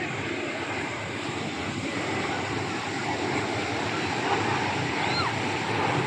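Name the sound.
airplane landing at Cox's Bazar airport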